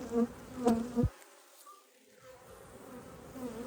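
Honey bees buzzing over an open hive during an inspection, a few louder close passes in the first second, then a quieter, steady hum.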